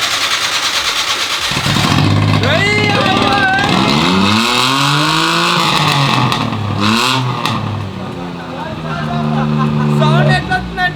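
Car engine with a cut silencer revs loudly and roughly, rising and falling in repeated pulls over a steady idle, with people talking close by throughout.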